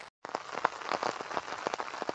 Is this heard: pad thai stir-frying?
no